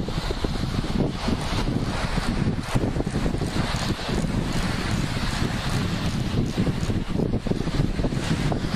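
Strong wind buffets the microphone on a shore while sea bream fishing, a loud, continuous, gusty rumble with surf and water sounds mixed underneath and no one speaking.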